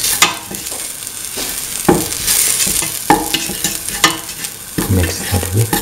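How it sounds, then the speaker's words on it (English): A spoon stirs salt and a spice mixture in a hot cooking pan for a kidney bean and potato stew, giving irregular scraping strokes over a faint sizzle, close and alone. "Thoroughly mix the salt and the mixture of spices."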